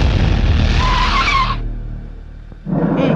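A vehicle on the road brakes hard to a stop, its tires skidding in a loud, close, sustained screech that dies away, followed by a burst of engine or road noise.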